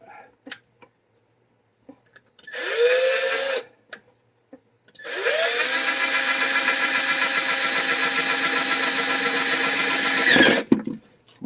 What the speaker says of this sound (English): And we'll drill a hole in that.